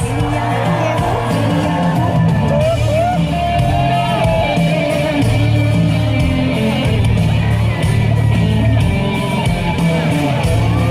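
A large crowd cheers and whoops loudly and continuously at a Karbi youth festival event, with shouts and yells rising over a dense, steady roar of applause.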